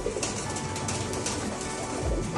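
Pigeons in a loft or cage coo in low, rounded calls that rise near the end, over steady close background noise, with no speech.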